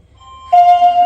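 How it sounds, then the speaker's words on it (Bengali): A battery-powered electric calling bell rings with a single loud, sustained electronic tone that starts abruptly after a brief quiet moment. "একবার কলিং বেলটা বাজাও তো"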